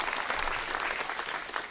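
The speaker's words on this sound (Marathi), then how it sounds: "त्या दोघांच्यासाठी पण जोरदार टाळ्या वाजवाव्या." Crowd applause fills a town council swearing-in ceremony for newly elected councillors, a dense, even clapping from many hands that carries on without a break.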